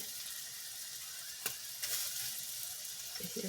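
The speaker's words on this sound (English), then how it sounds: "sit here fry these biscuits" Biscuits fry in a pan in a home kitchen, giving a steady close sizzle throughout. A couple of light clicks from utensils or the pan cut through it, and there is no speech.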